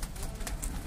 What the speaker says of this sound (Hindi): बेचारे कबूतर भूखे, इनको थोड़ी देर खोले देते हैं ऐसी बारिश में।